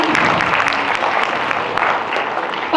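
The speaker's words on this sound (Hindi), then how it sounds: "जोरदार तालियां।" Loud, dense applause from the audience at a Dev Samaj Mahotsav quiz event, a continuous roar of many hands clapping that fills the whole stretch without pause.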